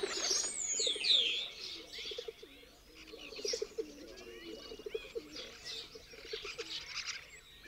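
Pigeons at a traditional pigeon loft in Villafafila coo in low rolling calls, mixed with higher chirps and a brief flutter of wings, close and continuous with no talk over them.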